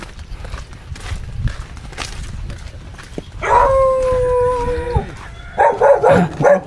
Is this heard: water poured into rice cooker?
no